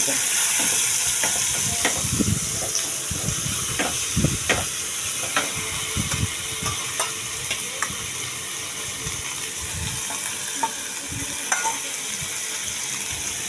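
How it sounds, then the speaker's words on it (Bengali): Spice paste with Kashmiri chilli sautéing in hot oil for a potato curry, giving a constant, fairly loud sizzle broken by frequent short scrapes and taps of a spoon against the pan, heard close up without talk. "মশলার পেস্টটা দিয়ে দিচ্ছি, দিয়ে আমি কষিয়ে নেব।"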